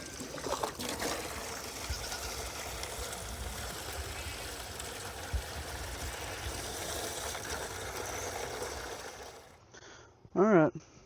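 Water running steadily into a livestock waterer on a farm with goats, a constant soft trickling and pouring that continues for most of the clip before cutting off, with a short voice at the end.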